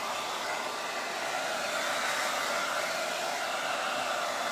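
A hair dryer on its cool setting blows steadily at close range to dry a freshly applied chalk transfer on a waxed pallet board, a constant broadband whoosh from start to finish with no talking.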